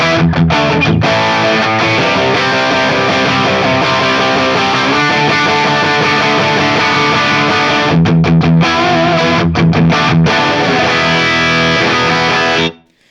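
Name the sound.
PRS electric guitar through Fractal AX8 Plexi 2204 amp model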